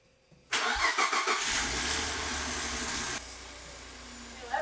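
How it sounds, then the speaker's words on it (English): A 2014 Ford F150 pickup engine cranks briefly and catches, roaring up loudly before settling into a steady, quieter idle close by, with no talking. "now we just have to start it up and idle it for about 10 to 15 seconds"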